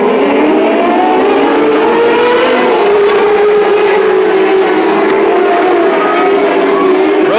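600 micro sprint race cars circling Petaluma Speedway during a main event, their engines blending into a loud, continuous roar with rising and falling pitch as the pack passes.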